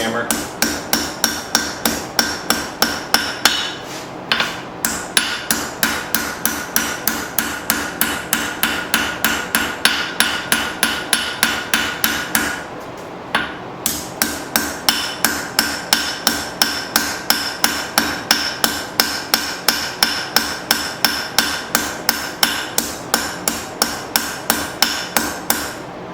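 Steady, rhythmic hammer blows on hot steel while forging a file knife, ringing strikes at an even pace with a couple of brief pauses, close and fairly loud.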